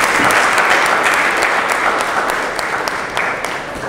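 Loud, close, sustained applause from an audience at a book signing ceremony, a thick rush of many hands that begins strong and then eases slightly.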